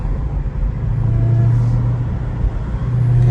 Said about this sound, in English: I'm just let this car pass me.